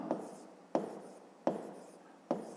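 Pencil or pen strokes writing numbers by hand on paper during a school maths exercise, four short separate scratching bursts at a steady rhythm, close and quiet, with no talking.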